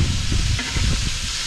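Redfish fillets laid skin side down in a hot pan for blackened redfish on the half shell give off a steady, close sizzling hiss that holds without pause.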